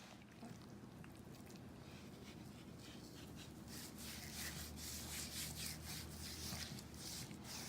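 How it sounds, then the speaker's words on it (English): Hands rubbing salt and seasoning over a raw turkey breast, a continuous close scraping and rubbing that grows a little louder and busier partway through. "So I'm rubbing the salt now lavishly all over the turkey."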